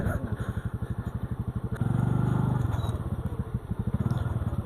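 A scooter engine pulses rhythmically, close and steady, revving harder partway through while ridden along a slippery red-mud off-road track after rain, with faint clatter and scraping underneath.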